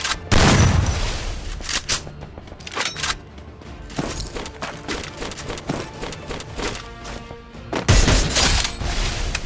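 Bursts of gunfire in Garena Free Fire during a solo-versus-squad match, with sharp loud shots opening and closing the stretch and scattered rapid firing between.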